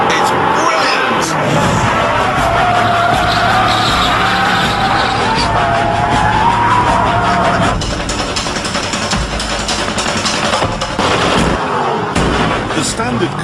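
A Jaguar XKR supercharged V8 roars loud and continuous through the exhaust, deep and rough, holding steady throughout with a brief dip near the end.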